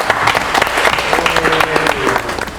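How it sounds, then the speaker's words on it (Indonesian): A studio audience on an Indonesian cooking competition show claps in sustained, dense applause that stays loud and even for nearly three seconds. "Sisa Asep dan Irin, tepuk tangan dulu dong"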